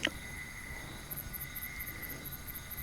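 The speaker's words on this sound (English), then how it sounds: "Some kind of cricket?" Crickets chirp on a quiet evening in the Dorset countryside beside a camper van, a faint, high, evenly pulsed trill repeating over soft background hiss.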